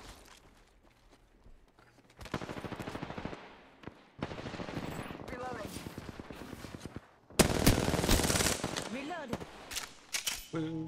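Bursts of automatic gunfire in the battle royale shooter Apex Legends, with a quiet opening followed by rapid sustained volleys, a short pause, then a louder, closer stretch of shooting with scattered footsteps and mechanical clatter.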